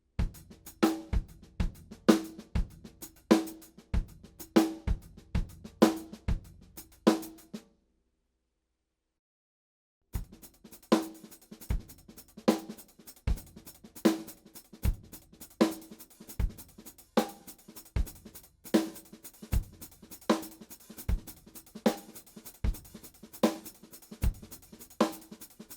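Slow drum kit groove with the snare landing on beats two and four, even repeated hits with sharp attacks, a silent break in the middle, then the pattern resumes, dry and close with no talk.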